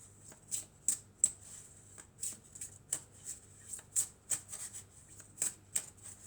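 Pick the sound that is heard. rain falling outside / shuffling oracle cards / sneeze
shuffling oracle cards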